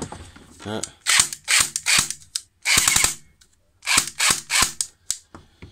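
A G&G CM16 airsoft M4 electric rifle with a version 2 gearbox, running on battery, fires several sharp bursts of rapid mechanical cycling up close, with short pauses between them.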